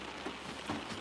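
Heavy rain drums on a parked car at night, a dense steady patter on the roof and glass with a couple of louder drops, heard close and without talk.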